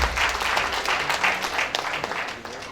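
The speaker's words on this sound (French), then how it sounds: "Merci de l'ovation, s'il vous plaît." An audience at an annual staff meeting breaks into sustained applause, a dense, steady wash of clapping lasting the whole stretch.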